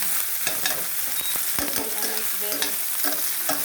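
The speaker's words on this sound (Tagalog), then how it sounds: "This is stir fry sayote." Chopped sayote (chayote) stir-fries in a heavy pot, a continuous close sizzle broken by repeated scraping and clattering stirs in an uneven rhythm, with no voices.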